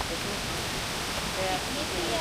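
Steady, broadband rush of a waterfall at Kroke Idok (tier 5), continuous and fairly close, with faint voices now and then over the water noise.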